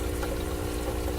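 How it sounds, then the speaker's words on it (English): Water drains steadily through an aquaponics bell siphon, a continuous close gurgling pour with a low rumbling churn that holds constant throughout. "You can see the siphoning happening"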